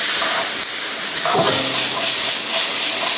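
Shallots stir-fry in a pan with a loud, continuous bright hiss of sizzling, a brief lower clatter of stirring midway, and little else beyond the steady frying noise.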